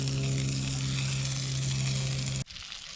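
Yellow perch fried in butter in a pan gives a steady, close sizzle with a strong low hum running beneath it, and the sound cuts off abruptly near the end, leaving quieter crackle.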